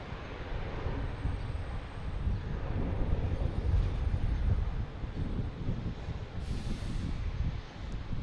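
An Aer Lingus airliner arriving from Dublin at Boston Logan Airport rumbles low and fairly distant, a broad steady roar that swells slightly midway, with no talk over it.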